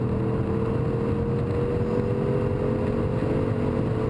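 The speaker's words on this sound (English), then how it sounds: "The S6 makes a great sound going down the straightaway." The engine of a 2013 Audi S6 at speed down a racetrack straightaway gives a loud, sustained, full-throated drone with a steadily rising tone, heard alone from inside the car.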